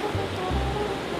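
A river flowing steadily in hot-spring country, its broad water noise filling the short moment alone with no voices over it.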